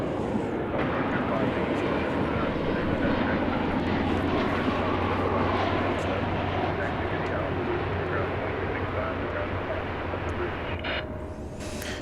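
An American Airlines Boeing 737-800 at DFW Airport, a loud, sustained engine roar heard in the open, fading slightly toward the end, with a person speaking faintly in the background.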